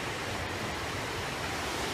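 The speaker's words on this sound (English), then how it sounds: "Waterfall." Waterfall rushing in a steady broadband wash of falling water, continuous and even with no other sounds, heard from a moderate distance.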